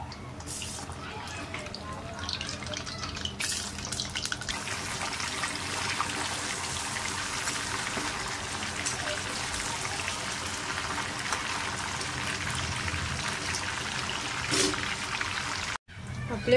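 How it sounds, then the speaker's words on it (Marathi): Large paneer pieces frying in hot oil, a steady, dense sizzle that carries on evenly for over fifteen seconds at close range, ending with a brief dropout and a final rise. "आता आपल्याला हे तळून घ्यायचे आहेत"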